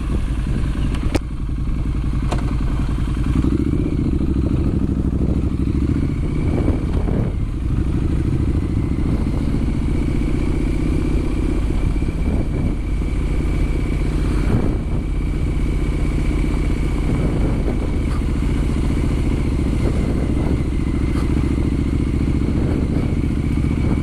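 Triumph Street Scrambler 900 motorcycle riding off-road, its engine a steady loud rumble throughout with occasional thumps and clatter from the rough ground, no talking.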